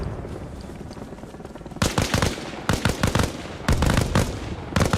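Gunfire in a video game battle: after a quiet, noisy stretch, three loud bursts of rapid automatic shots crackle close by, each lasting under a second, with short gaps between them.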